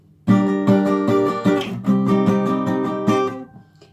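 Acoustic guitar strums chords in a steady down-up pattern, bright rhythmic strokes close by for a few seconds before the last chord rings out, no talking.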